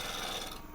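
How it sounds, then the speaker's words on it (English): A short, steady scraping cut on a wooden twig pot being turned on a lathe, a continuous close rasping rub that eases off toward the end. "Let's see if I can't do that with a little bit of a scraping cut here."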